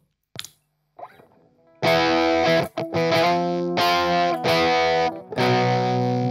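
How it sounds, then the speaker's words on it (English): Electric guitar played through a DIY high-voltage neon lamp tube distortion pedal: a few faint clean picks, then loud, buzzy distorted chords struck several times with short gaps between them, close and with no talking. "That's what neon lamp distortion sounds like."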